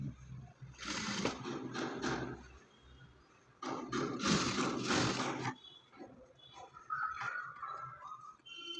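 Sewing machine stitching blouse fabric, running in two bursts of rapid mechanical whirring separated by pauses, close, with faint softer rattling toward the end and no talking.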